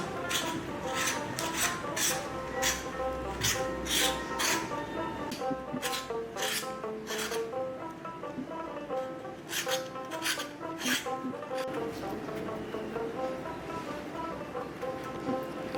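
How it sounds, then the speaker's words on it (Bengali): A knife scrapes the skin off a pointed gourd (potol) in a home kitchen, making steady, rhythmic rasping strokes that repeat quickly and evenly at close range, with no talking. "আর এটাকে আমি এইভাবে একটা নাইফ দিয়ে ধরে আস্তে আস্তে গাটাকে এরকম চেঁচে নেব"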